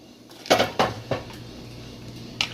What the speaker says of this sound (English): we just want to stir this together